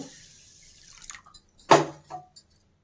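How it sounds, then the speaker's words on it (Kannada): A glass of rice being washed in water for mint pulao gives a few sparse drips and light splashes, one sharper splash in the middle, in an otherwise quiet room. "ನಾನು ಒಂದು ಗ್ಲಾಸ್ ಅಕ್ಕಿನ ಈಗ ತೊಳ್ಕೊತಾ ಇದ್ದೀನಿ"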